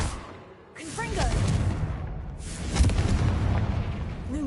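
A Confringo spell explodes in the Hogwarts video game as a loud, booming blast, rolling and sustained after a short lull. A second surge of rumble follows, with a voice calling out over the noise.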